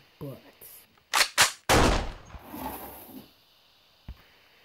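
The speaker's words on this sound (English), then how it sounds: "I got my gun reloaded, and now I can shoot some people." Video game gunfire comes as a few sharp bursts followed by a louder, longer blast with a rumbling tail, then a single faint shot, with a voice briefly heard at the start.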